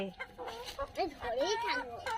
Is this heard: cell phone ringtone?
no